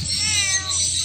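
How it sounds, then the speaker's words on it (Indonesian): A cat with cerebellar hypoplasia meows nearby, one drawn-out, fairly loud cry with a wavering pitch. "Kok meong-meong?"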